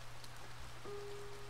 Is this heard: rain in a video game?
yes